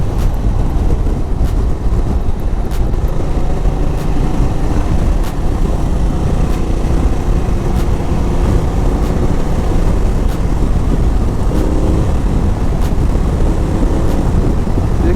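Steady, loud roar of a Ducati motorcycle accelerating at about 115, engine drone blended with heavy rushing wind noise, constant throughout with faint regular ticks and no talk.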